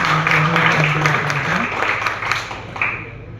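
Audience applause fills the room at a two-day hotel digital promotion and marketing training event, a steady wash of clapping that carries on throughout, with a faint voice underneath.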